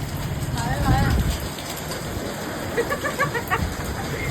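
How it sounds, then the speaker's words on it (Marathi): Heavy rain pours in a steady hiss close by, while people talk over it at the start and again near the end. "बाहेर परत चल पाऊस आहे तर खूप"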